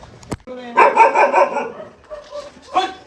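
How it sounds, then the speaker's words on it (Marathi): A dog barking near a bull on a village road, several close, loud barks in a quick burst followed by a lone bark after a pause, with a sharp knock at the start. "घाबरले कुत्र्याला कुत्रा घाबरले बैलाला कुत्र्याला बैल घाबरले"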